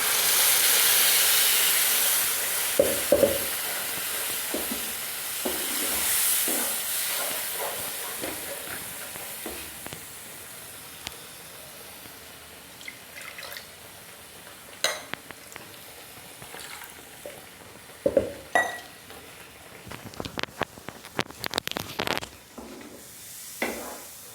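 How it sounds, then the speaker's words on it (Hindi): Ground tomato hits spices already fried in a pan, setting off a loud hiss and sizzle that fades into softer frying, broken by occasional clinks and stirring scrapes. "तो मसाले भून गए हैं और इसमें डाल देंगे ये टमाटर जो हमने पीस कर रखा है।"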